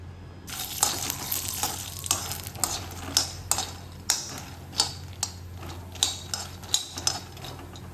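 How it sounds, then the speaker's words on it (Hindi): Makhana (fox nuts) roast in desi ghee with a soft sizzle under rhythmic scraping and clicking strokes as the nuts are stirred around the pan, close up with a low steady hum underneath. "तो अब मैं देसी घी में करूँगी मखानों को रोस्ट"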